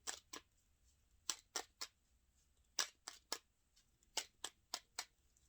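Tarot cards being shuffled by hand, quiet crisp riffles and flicks in irregular bursts with short pauses between, close and alone.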